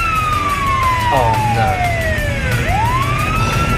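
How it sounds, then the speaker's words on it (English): A police car siren wails loudly, its tone sliding down and then swooping back up in a sweeping pattern over street traffic noise. "Police car."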